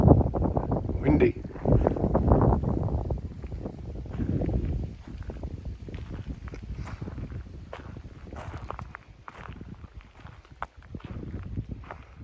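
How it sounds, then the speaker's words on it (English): Wind gusts across North Fowl Lake on the Minnesota–Canada border, a loud, rough rumble buffeting the microphone at first, then easing to a steadier rush with scattered rustles and knocks. "Windy."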